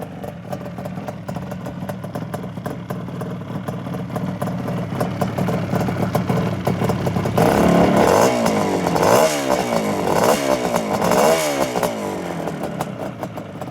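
A 1980 Suzuki GT250 X7 two-stroke motorcycle engine runs close up, starting with a steady idle and then climbing into louder, repeated revs while warming up, with no talking.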